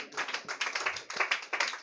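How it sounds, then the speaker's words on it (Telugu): A church congregation claps in fast, steady rhythm, dense overlapping handclaps carrying loud and continuous for the whole short stretch. "చప్పట్లు కూడా దేవుని మహిమతో."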